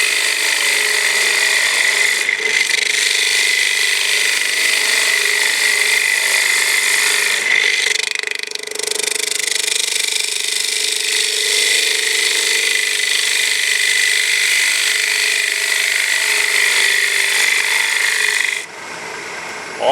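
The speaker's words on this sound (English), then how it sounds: "Once it starts cutting, all I do is push it with my right hand." A wood lathe turning a hollow piece as a hand-held tool cuts into the wood, giving a steady loud whirring hiss with a brief dip partway through and an abrupt stop near the end. No one speaks.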